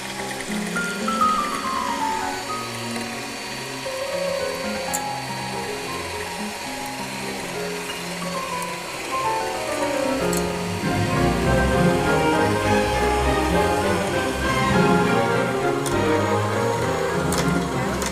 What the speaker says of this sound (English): We'll be beating the egg yolks with sugar.